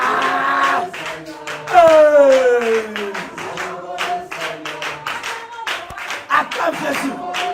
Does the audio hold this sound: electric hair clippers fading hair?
no